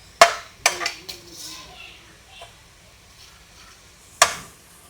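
Fenugreek seeds tipped into a pan of browned, frying onions for a fish curry give a few sharp clinks and crackles, then a faint, short sizzle that fades into quiet.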